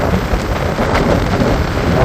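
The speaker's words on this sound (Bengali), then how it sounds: "বাতাসের তীব্রতা অনেক আর বৃষ্টি হচ্ছে অল্প অল্প করে বৃষ্টি হচ্ছে" Cyclone Remal's rain and gusting wind roar together on the Bangladesh coast in a dense, continuous wash of noise, loud and close, with no voices.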